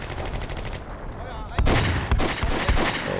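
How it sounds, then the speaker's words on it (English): Mortar fire in the video game Combat Mission: Beyond Overlord, a faint rumble followed by several heavy booming blasts and crackling impacts, loud and close, with light voices mixed in. "Oh, get some mortar sounds."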